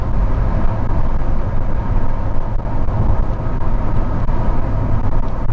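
An Audi 80 car pulls along the road in fifth gear, a steady loud drone of engine and road roar heard from inside the cabin, with no talking.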